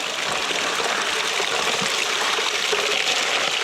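Slaty Creek runs steadily over rocks nearby, a continuous broadband rush and burble of flowing water with no voices.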